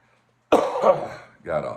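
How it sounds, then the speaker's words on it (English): A single harsh cough bursts out after a moment of silence, followed by a shorter second cough, close and loud. "still got a bit of a cough."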